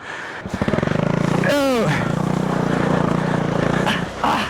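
A motorcycle engine revs hard on the mountain road to Shimshal in Pakistan, with a steady loud drone and a sharp rising-then-falling surge of throttle early on, close to the listener.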